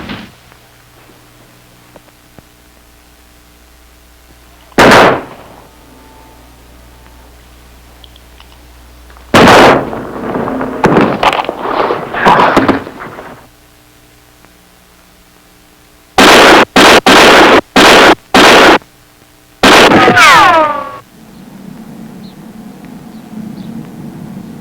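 Sharp gunshots from a vintage firearms safety film, with one isolated shot, then a cluster of loud reports, then a rapid volley of several bursts, with no talk in between.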